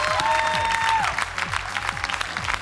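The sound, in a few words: audience applause for Suzan Margaryan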